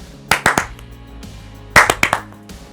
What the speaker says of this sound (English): Do a double clap.